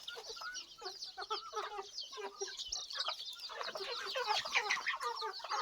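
Chickens and chicks cluck and cheep continuously, a busy overlapping chorus of peeps and clucks close by.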